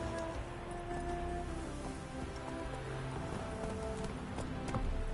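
Roach, the horse in The Witcher 3, trots along with soft, steady hoof clip-clops under a constant rain-like patter, faint and distant throughout.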